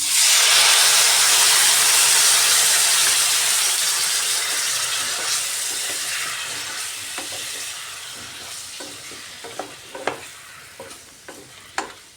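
Spice paste sizzling and frying in a hot pan for a papaya, potato and rohu fish curry, a loud steady hiss that slowly fades while stirring scrapes and clinks pop through near the end.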